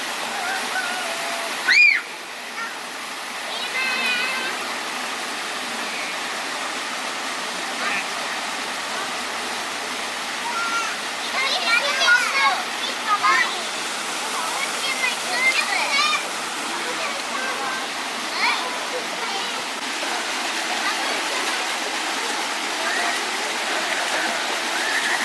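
A desert waterfall in Israel rushes steadily in the background, a continuous wash of falling water heard on a slippery hiking trail, with a sharp knock early on and occasional voices and movement nearby.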